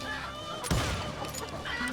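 Chickens cluck in the Western shooter game Call of Juarez: Gunslinger, short fowl calls over game ambience with a sharp burst partway through, a voice faintly present.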